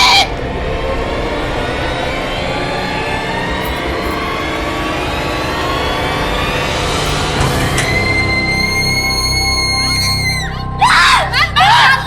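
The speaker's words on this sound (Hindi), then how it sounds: "आप इतना चीख क्यों रही थी?" A woman screams loudly and continuously, her shrill voice rising and holding over a dense noisy background before breaking into sharper cries near the end.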